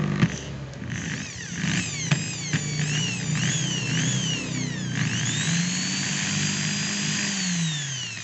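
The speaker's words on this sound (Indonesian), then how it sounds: "bor yang dihidupkan dalam keadaan terbuka" A Maxtec MT60 electric drill with its casing open runs loud and steady with a high motor whine, its pitch sweeping up and down through several speed changes, with a few clicks near the start.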